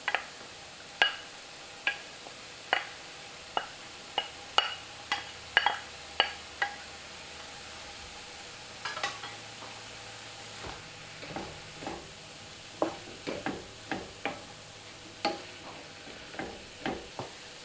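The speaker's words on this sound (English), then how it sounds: "Then I'm going to add my soy curls back in." Soy curls stirred in a pan, sharp spoon taps and scrapes at an irregular rhythm over a soft, steady sizzle, close up with no talking.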